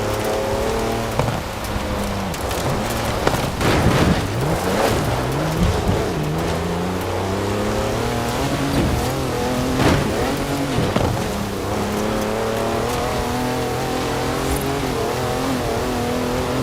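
Mercedes 350D wagon with 340 horsepower driving off-road in Forza Horizon 4, its engine droning and revving continuously while gravel and dirt crackle under the tires, with intermittent louder bursts over a constant rumble.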